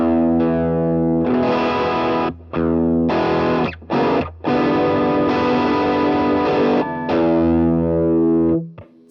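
Electric guitar through a Boss DS-1 pedal with only the level knob raised to about 70% and drive and tone at zero, giving thick, mildly gritty chords in several loud strummed bursts with short gaps and a fading final ring.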